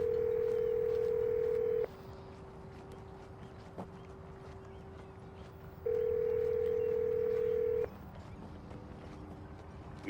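A telephone rings a US cell phone with two long, loud ringback tones about four seconds apart, each lasting roughly two seconds over a faint, steady line hiss, with no speech.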